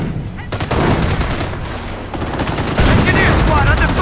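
Dense gunfire rattles through a Company of Heroes battle during the Carentan counterattack mission, loud sustained bursts and volleys overlapping, with shouted soldier voices mixed into the barrage.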